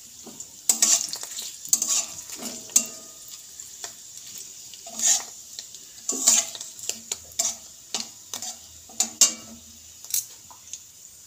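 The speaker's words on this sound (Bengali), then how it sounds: "ফোড়নটা আমার ভাজা হয়ে গেছে" Whole spices (cardamom, cloves, cinnamon, dried red chillies and whole cumin) tempering in hot oil on a gas stove, a light sizzle under repeated sharp spoon taps and scraping against the pan, close and fairly loud.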